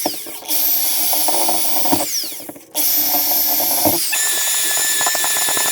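A power drill drives screws into Torklift Glowstep Revolution RV steps. The motor whines loudly in close bursts and cuts out briefly between them, with no voices.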